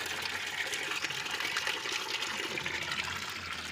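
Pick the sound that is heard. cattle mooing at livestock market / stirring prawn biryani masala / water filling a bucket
water filling a bucket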